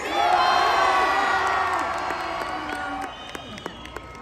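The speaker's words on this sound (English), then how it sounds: "big applause, please, from Christopher Mcquarrie and Tom Cruise" A theatre audience at a Mission: Impossible screening event in Mexico with Tom Cruise and Christopher McQuarrie bursts into loud cheering, whooping and applause that peaks early, then fades into scattered shouts and a few claps.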